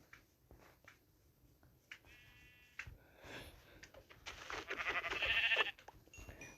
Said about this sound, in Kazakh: Маған қойларды іздеу керек қой.